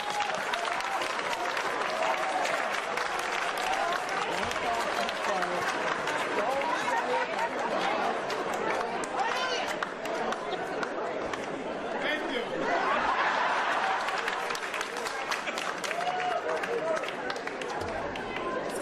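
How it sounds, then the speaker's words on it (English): Audience applause at a New Jersey gubernatorial candidates' debate on social justice, steady and sustained throughout, with crowd chatter and voices mixed in beneath the clapping. "I guess it's useless not to say stop the applause."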